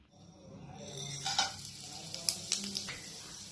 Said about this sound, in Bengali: এরপর এগুলোকে আমি 2 সেকেন্ডের মতো ভেজে নেব।